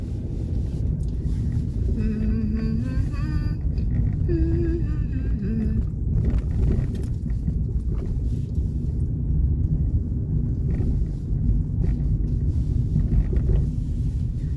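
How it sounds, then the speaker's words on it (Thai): Strong cold wind blows across an open park and buffets the microphone with a steady, loud roar. Brief tonal sounds and a voice come through early on. "ลมแรงเนาะลมแรง"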